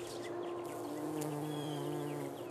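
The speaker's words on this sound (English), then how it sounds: "I think the honeybees" Honeybees buzz steadily at a market garden, a faint continuous drone holding close by throughout with no voices.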